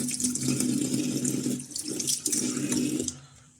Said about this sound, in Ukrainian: Тепер давайте е, помию руку.